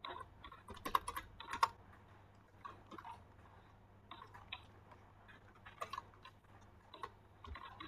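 Computer keyboard typing while entering data-mining code, quiet clusters of light clicking keystrokes in short bursts with pauses, close and soft, over a low steady hum.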